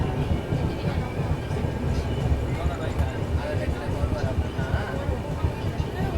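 An electric locomotive hauls the Yeshwantpur–Vasco Goa Express along the rails, giving a continuous low rumble and rattle heard from on board, with people talking over it.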